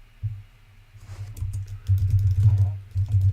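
Rapid clicking of keys on a computer keyboard while code is typed, close and fairly loud, in quick bursts with a brief pause partway through.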